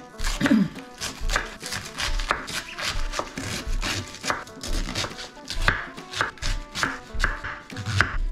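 Vegetables being chopped with a knife on a board while preparing pancit, a steady fast run of sharp, close knocks and cuts that continues without pause and without talking.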